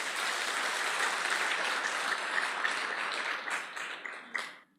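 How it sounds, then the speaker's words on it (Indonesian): Applause from a seated audience at a business seminar, steady dense clapping filling the room for several seconds before tapering off near the end, with no talk. "Mohon aplaus buat unicorn."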